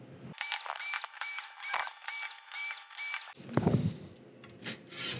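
Screws are backed out of the main board of a Sharp Aquos LC-60EQ10U television: a close, rhythmic series of rasping, ratcheting turns, then a brief jumble of scraping and handling noise, with no talking.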